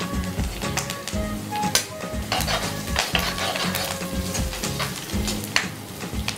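Green chilies fry with curry leaves in a pan for a vegetable stew, giving a busy sizzle along with rapid, rhythmic scraping and clinks of a spoon against the metal, loud and close.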